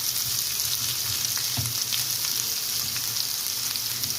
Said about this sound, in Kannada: ಸ್ಟಾರ್ಟಿಂಗು ಸ್ವಲ್ಪ ಜಾಸ್ತಿ ಉರಿಯಲ್ಲೇ ಫ್ರೈ ಮಾಡಬೇಕು.